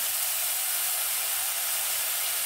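Onions sizzle steadily in about 60 ml of olive oil in a pan over lowered heat, a continuous even hiss with no pauses and no talking.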